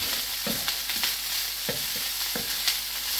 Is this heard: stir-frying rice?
yes